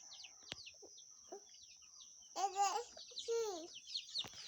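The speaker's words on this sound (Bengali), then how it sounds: "এখানে মুরগি আছে, এই দেখেন" Chickens cluck on a poultry farm, with a few short calls early on and then two louder bursts of clucking in the second half over a steady high background whine.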